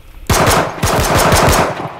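Loud, rapid automatic gunfire in a video game: two long bursts of fast, evenly spaced shots starting abruptly, with no talk.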